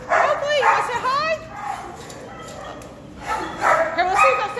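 Dogs vocalizing nearby in short yips and whiny barks, in two bursts separated by a quieter gap, fairly loud and close with no speech over them.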